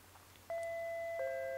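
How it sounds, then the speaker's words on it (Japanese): A doorbell chime from the video game Kamaitachi no Yoru, sounding twice as two sustained electronic ding-dong tones that ring on over faint background music, clear and fairly near. "ピンポン来たよ。"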